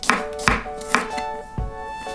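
A knife chops a handful of garlic into large dice on a cutting board, five or six firm, evenly spaced thuds close by with slight ringing between strokes.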